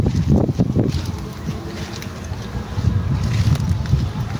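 Steady wind buffeting the microphone outdoors on open water while fishing, a low rumbling roar throughout with brief gusty bursts near the start.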